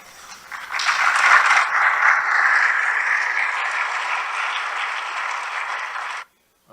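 An audience breaks into applause, a broad wash of clapping that swells quickly, holds at a fairly even level for several seconds and then cuts off abruptly.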